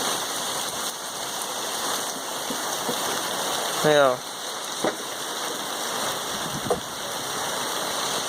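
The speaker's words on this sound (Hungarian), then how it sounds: "Hamar elmegy ám ez az eső." Steady rain pours down during a sunny late-July thunderstorm, a dense, even hiss filling the whole stretch, with a brief voice speaking once and a couple of faint knocks.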